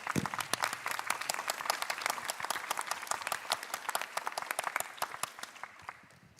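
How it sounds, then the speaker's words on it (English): An audience claps after a panel session at a conference, a lively round of applause with many overlapping hand claps that gradually thins and fades at the end. "Let's give everybody a round of applause."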